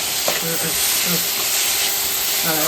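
Onions sauté to golden brown in oil on an electric stove, a close, steady sizzle and hiss with repeated spatula stirs and scrapes throughout.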